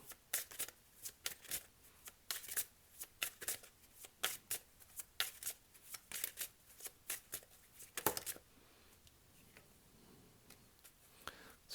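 Tarot cards are shuffled before a single card is drawn, giving rapid riffling and flicking bursts that repeat in quick, uneven clusters, close and fairly quiet.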